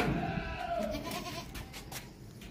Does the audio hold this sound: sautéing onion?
no